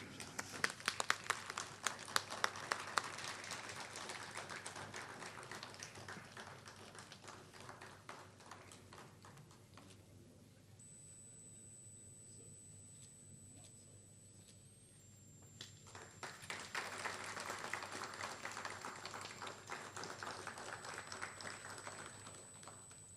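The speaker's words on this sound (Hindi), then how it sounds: "एक बार जोरदार तालियां होनी चाहिए।" An audience at an event welcoming Amitabh Bachchan applauds in faint, crackling clapping that fades into a quieter lull, then swells again toward the end.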